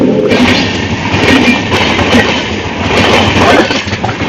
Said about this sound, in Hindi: यहाँ से ट्रेनें गुजरती है